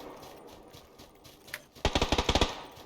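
PUBG Battlegrounds gunfire: after a near-silent stretch with one faint click, a loud rapid burst of about eight close shots cracks out in quick, even succession.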